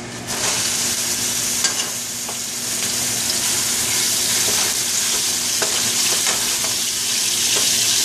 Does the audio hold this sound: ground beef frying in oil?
yes